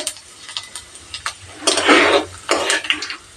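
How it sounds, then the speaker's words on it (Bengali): Bay leaves and panch phoron stirred in hot oil or ghee for a Bengali vegetable curry with grated coconut, a spoon scraping the pan in short bursts over a steady close sizzle. "নেড়ে দিলাম"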